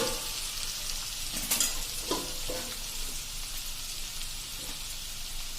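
Finely chopped green chillies and garlic sauté in a pan with a soft, steady hiss and crackle, a couple of light utensil taps and scrapes heard close by.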